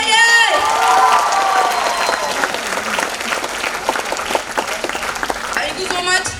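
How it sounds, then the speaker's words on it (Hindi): Loud, sustained applause from an audience at a company gathering in Chhattisgarh, dense clapping with cheering voices that fills the whole stretch and stays close and steady throughout. "एक बार जोरदार तालियां होनी चाहिए।"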